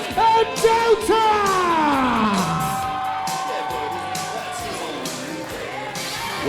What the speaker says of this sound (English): We will hear the chant you're hearing now scream, echo throughout the RCW Academy